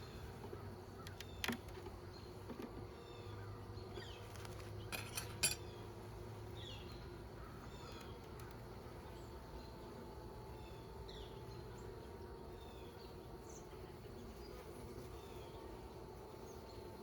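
Honeybees humming around a beehive being checked during winter preparation, a faint steady drone with occasional clinks and taps from the hive equipment, no talking.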